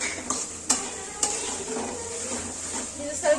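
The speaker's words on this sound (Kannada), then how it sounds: "ಇದು ಇವಾಗ ಮಸಾಲೆ ಎಲ್ಲ ಫ್ರೈ ಮಾಡ್ಕೊಳ್ಳೋಣ." Masala frying for chicken sukka, a close bright sizzle with a few sharp spoon clinks against the pan, continuous throughout.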